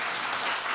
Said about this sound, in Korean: 박수 한번 하셔야 되는데.